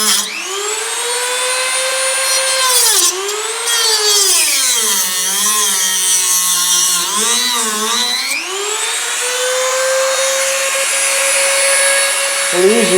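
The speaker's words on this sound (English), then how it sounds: "I'm going to use this little Dremel tool and do it this way" A small handheld Dremel rotary tool grinds and cleans small scrap metal pieces, a loud continuous high whine whose pitch dips and rises as the bit bears into the metal and eases off, running close and steady throughout.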